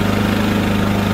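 A Champion 3400 portable generator engine runs steadily during break-in, a loud, close, continuous idle drone with a strong even hum and constant vibration and no voices.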